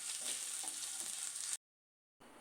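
Curry leaves, fennel and crushed garlic sautéing in a pan, an even close sizzle that stops abruptly partway through, falls silent, then resumes briefly.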